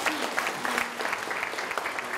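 Brief burst of audience applause at a provincial governor's visit to a city hall gathering, steady mid-level clapping from a modest crowd, with a faint voice underneath.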